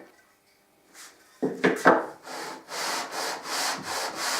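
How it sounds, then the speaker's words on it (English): Sandpaper is rubbed back and forth across a wooden joint of an archtop guitar. A few scraping knocks come first, then a steady series of rhythmic abrasive strokes, close by and moderately loud, with no talking. "after sanding and changing for a finer grade of paper"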